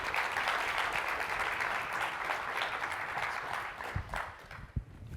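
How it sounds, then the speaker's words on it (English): Steady audience applause fills a conference stage as a senior director of environmental sustainability at Workday walks on, dense and sustained, with a couple of sharper claps near the end. "Please give him a round of applause."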